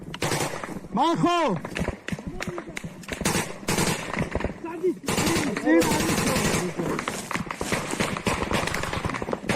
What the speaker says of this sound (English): and our cameraman here is returning fire.